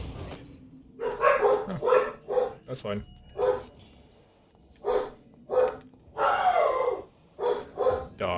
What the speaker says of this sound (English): I got dogs in the background. It's Halloween. They're gonna bark.